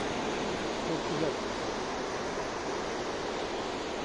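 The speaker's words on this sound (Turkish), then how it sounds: "Su, türbinlerin kaynattığı su buradan şelale yapıp dökülüyor." Water from power plant turbines pouring down like a waterfall, a loud steady roaring rush of churning water filling the scene, continuous and close, no speech.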